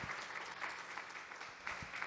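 An audience applauds at a talk on the future of food and synthetic biology, a steady wash of clapping from many hands, fairly quiet and distant, holding for the whole stretch with a few louder swells.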